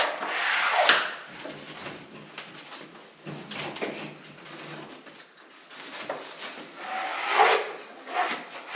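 A maroufle spatula rubs and smooths fiberglass fabric onto a ceiling during renovation, giving repeated scraping, brushing strokes at close range that swell and fade with pauses between passes.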